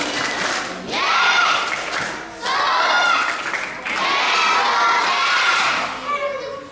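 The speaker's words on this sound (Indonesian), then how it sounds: "Tepuk tangan Yesus." Sunday school children perform a rhythmic Jesus clap, groups of claps mixed with loud chanting and shouting voices in repeated bursts, lively and close.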